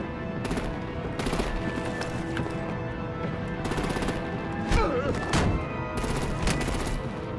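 Heavy artillery and automatic gunfire in the Batman: The Enemy Within game rattles in dense, repeated bursts. Loud, close booms punctuate the shooting throughout, with talk mixed in.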